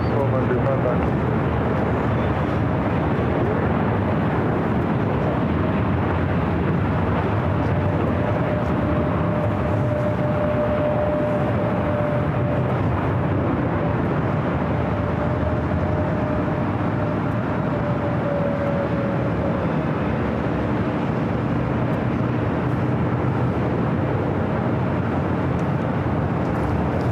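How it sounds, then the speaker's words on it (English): Delta Airbus A321neo airliner lining up on runway 24 left at LAX, a broad steady roar of jet engines and airport noise running throughout, loud and continuous with talking mixed in. "Lining up here on the north side on 24 left. It's Delta A321 Neo heading to Kahului, flight 418."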